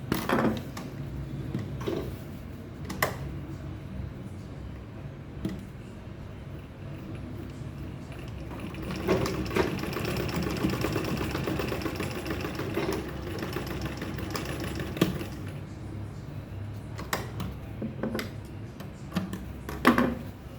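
A sewing machine double-stitching a handbag runs in a steady, close mechanical whir with fast ticking needle strokes and occasional louder knocks, continuous for about twenty seconds with no speech.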